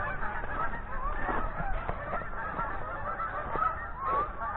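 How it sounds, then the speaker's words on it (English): Several geese honk repeatedly nearby in an outdoor setting, a busy overlapping chorus of nasal calls heard alone over faint background noise. "more geese"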